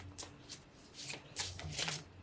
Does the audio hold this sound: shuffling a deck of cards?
yes